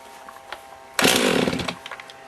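A chainsaw engine fires suddenly after a rope pull, a loud close burst of raspy engine roar lasting about half a second before sputtering down into rough, uneven pops.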